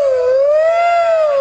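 A human voice imitates an ambulance siren with a single sustained, gently wavering wail, loud and close, with no other sound.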